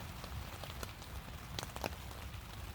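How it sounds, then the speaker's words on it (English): Rain patters on a hot tent during a multi-day hammock camping trip, with soft scattered drops and a few sharper taps over a steady quiet hiss. "listen to the rain."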